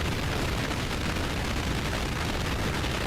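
Continuous dense rumble of rocket cannon explosions from the Depth Crawler V2 in Earth Defense Force 6, a loud unbroken wash of booms and blasts with no gaps.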